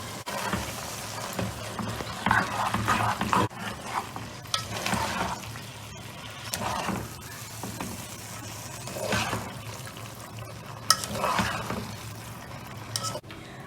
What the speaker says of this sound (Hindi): अब नूडल्स डाल के हमने इसको मिक्स कर लेना है